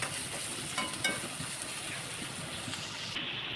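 Onions frying in oil for a dried-fish dish, a steady broadband sizzle with a few soft stirring scrapes, close and continuous with no talking.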